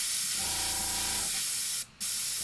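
An airbrush sprays thinned Games Workshop miniature paint in a steady close hiss lasting about two seconds, broken by a brief sharp cutoff near the end.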